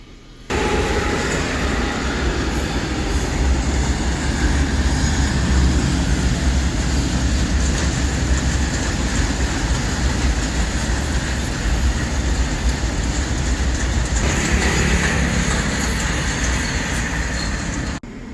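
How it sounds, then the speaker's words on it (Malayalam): A train rumbles past a viewpoint near Cochin airport in Kerala, loud and close with a steady roar of rolling wagons that fades slightly near the end. "ട്രെയിൻ"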